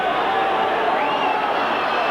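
A football crowd at a 1979/80 FA Cup match between Halifax Town and Manchester City gives off a dense, continuous roar and hum, loud and steady without distinct peaks.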